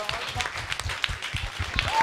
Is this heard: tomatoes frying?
no